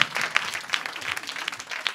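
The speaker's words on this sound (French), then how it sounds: "Applaudissez-vous, le public" Concert crowd applauding at a private show, dense clapping with a few sharper claps standing out, moderately loud and continuous, with faint crowd murmur mixed in.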